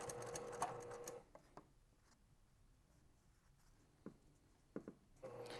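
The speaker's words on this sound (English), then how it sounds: "I'm going to come to the machine and I'm going to try to put my needle right on the very edge" A sewing machine stitches and back stitches along the folded edges of a tool roll, a quiet close whir at the start and end with soft clicks in the lull between.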